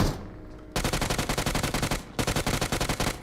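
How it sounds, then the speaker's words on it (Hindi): Rapid automatic AK rifle fire in the BGMI battle royale game, two long loud bursts of evenly spaced shots separated by a short pause, with no talk over them. "यहाँ पे कोई AK लेके बैठा है, रुको जरा, कौन है यहाँ पे? AK चला रहा है"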